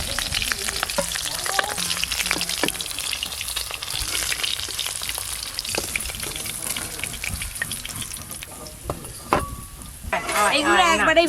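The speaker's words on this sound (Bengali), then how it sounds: "মাছগুলো একদম হালকা করে ভাজা হয়ে গেল।" Fish frying lightly in oil in a pan, a steady sizzle with occasional clinks of a utensil, joined near the end by running water and under intermittent talking.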